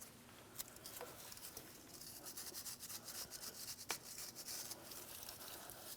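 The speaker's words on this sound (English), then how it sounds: "continue on with a wire brush. We're going to clean up this area." Wire brush scrubbing the area around a 2003-2008 Toyota Matrix power steering pump: a faint, continuous scratchy rubbing with occasional small ticks, steady and close, with no voices.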